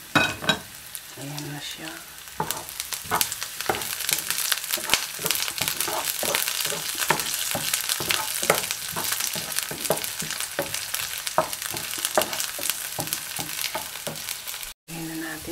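Garlic fries in a hot pan with a loud, steady sizzle and repeated stirring scrapes throughout, close up, with a brief spoken line near the start.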